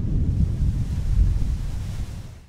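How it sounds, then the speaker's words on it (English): Powerful waves crashing onto the Lake Michigan shore at Grand Haven State Park, a continuous loud churning surf mixed with wind rumble, close and unbroken with no talking. "the waves behind me are very powerful"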